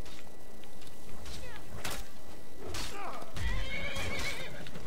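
A horse in the Skyrim video game neighs and whinnies loudly several times over a busy backdrop of hoof clip-clops and combat noise, close and prominent throughout.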